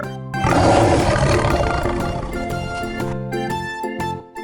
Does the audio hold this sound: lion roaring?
yes